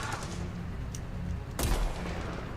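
A mortar strike explodes in a video game battle: a single sudden, heavy thud with a deep rumbling boom, cutting through a constant noisy background of distant combat.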